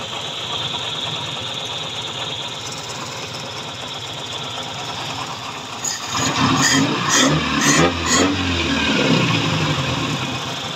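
A car engine with an unstable, dropping idle runs steadily with a loud hissing whistle over it, then revs up briefly in a few louder bursts before easing back.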